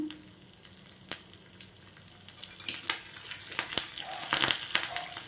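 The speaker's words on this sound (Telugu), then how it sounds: "వేసుకొని మొత్తాన్ని కూడా మంచిగా వేయించుకోవాలండి. ఇందులో కొద్దిగా కరివేపాకు వేసుకుందాం." Curry leaves crackle and sizzle in hot oil for a tempering for bottle gourd chutney, quiet frying with scattered sharp pops that grow busier toward the end.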